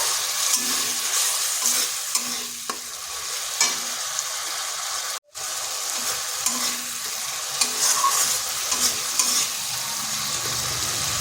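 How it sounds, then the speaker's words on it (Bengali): Spice paste with a little water being stirred and fried in a wok for a soybean and egg curry, heard as repeated scraping stirs over a lively sizzle, close and fairly loud, with one brief silent gap midway. "এরপরে মশলাটা ভালো করে কষে নিতে হবে।"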